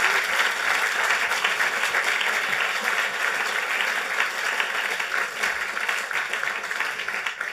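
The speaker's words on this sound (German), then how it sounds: "Und das ist wirklich ein Applaus wert." Sustained studio audience applause on a German talk show, a dense, steady roar of many hands clapping at fairly loud level, continuing evenly for several seconds without speech.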